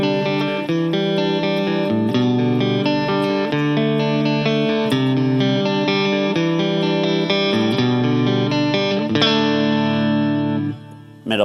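An electric guitar played through a Ruby UAFX amp pedal voiced like a Vox AC30, ringing chimey chords and bell-like notes with slight drive and shimmer, strummed continuously before ending abruptly.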